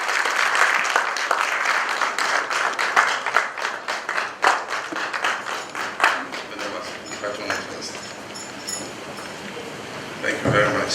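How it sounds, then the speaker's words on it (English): A round of applause greets the President of Ghana at a formal courtesy visit by the Asantehene, many hands clapping loudly and densely at first, then thinning into scattered claps before fading out. "A round of applause, please."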